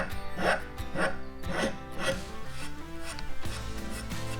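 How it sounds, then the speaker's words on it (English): A hand file rasps in short, rhythmic strokes, about two per second, taking the sharp edges off wooden blocks in a bike frame workshop, close and moderately loud. "Need to take a little file, take off the sharp edges"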